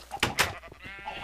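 A Minecraft sheep gives a short, close bleat in two wavering pulses, fairly loud against a quiet background.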